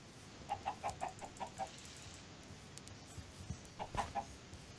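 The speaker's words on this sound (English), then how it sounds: "Can someone turn around and kill that chicken?" Minecraft chickens cluck during a Block Hunt game, a quick string of soft, evenly spaced clucks, a pause, then another short burst, faint and distant over low background hiss.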